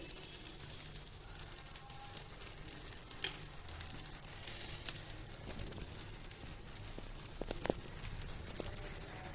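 Pesarattu, a green gram dosa, fries in oil on a pan with a soft, continuous sizzle and faint crackles and pops. The sizzle stays low and steady throughout, and no one talks.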